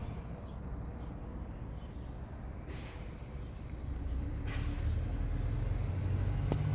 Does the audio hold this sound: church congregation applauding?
no